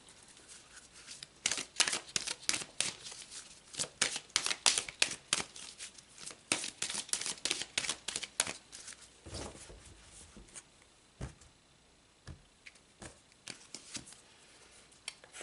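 Oracle deck cards being shuffled and drawn, a run of crisp riffling bursts and flicks that thin out to a few isolated snaps toward the end.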